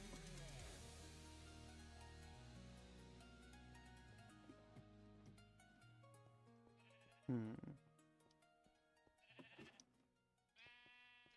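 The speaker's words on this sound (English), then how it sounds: "Why do I hear a sheep?" Sheep bleating loudly in the Nomifactory Minecraft modpack, a few separate bleats rising over a busy bed of tonal game music and effects.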